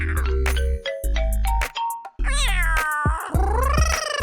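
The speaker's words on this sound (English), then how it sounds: "Oh, someone's meowing. There's a kitty!" A cat meows loudly and close by, several drawn-out, rising-and-falling cries in quick succession over a steady tonal background.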